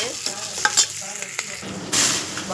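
Tomato rice sautéing in a pan, with a spoon scraping and stirring close up over a steady sizzle; a few sharper clinks come early, and the frying noise swells louder near the end.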